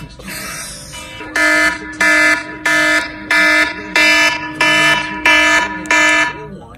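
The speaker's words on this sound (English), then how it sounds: "Look at all these goddamn alarms going off while I'm in the shower" Loud electronic alarm beeps blare in a steady repeating pattern, about eight long tones with short gaps, following a brief rustling noise at the start.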